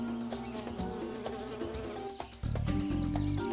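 A bee visits flowers, with a close, wavering insect buzz that shifts in pitch and loudness over a few seconds and is heard alone outdoors.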